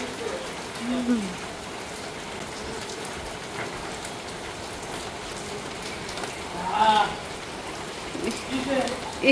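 Steady rain falls on a rural Bangladeshi home, a continuous broadband patter with scattered louder drops, while a voice speaks faintly underneath.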